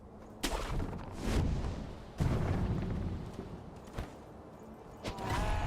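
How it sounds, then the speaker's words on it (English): Firecrackers go off in a video game, several booming blasts spread across the stretch, loud and rumbling with no talk over them. "beasts are not fond of the firecrackers."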